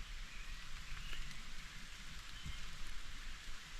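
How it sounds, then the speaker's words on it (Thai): Rain falls steadily on a nighttime outdoor trail, a constant patter with occasional closer drops hitting surfaces, no voices. "ฝนก็ตก"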